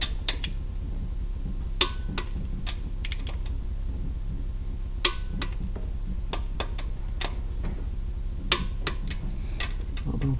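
A torque wrench clicks sharply at irregular intervals while bolts are tightened in a star pattern on a Volvo 240 GLT saloon, the crisp ticks standing out close over a low workshop hum.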